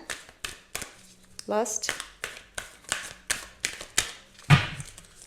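Tarot cards shuffled by hand in a series of crisp riffles and taps with a sharper slap near the end, close and moderately loud, with a brief spoken word in between.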